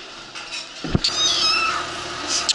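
A kitten rescued from a smoke-filled room gives a thin, high, drawn-out meow after a dull thump, then a shorter cry follows near the end, all close and loud.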